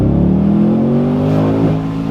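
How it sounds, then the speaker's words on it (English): A modified Holden HSV ClubSport R8 (VE) with its LS3 V8 accelerates hard, the deep engine note climbing steadily in pitch, loud and close, then dipping briefly as it shifts and pulls again. "this engine is ridiculous. As soon as you get off the clutch, there's instant power."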